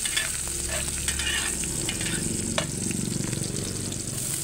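Garlic and onion sizzle in a hot pan as they are stir-fried, a close, loud, steady crackling hiss with occasional scraping stirs throughout and no voices.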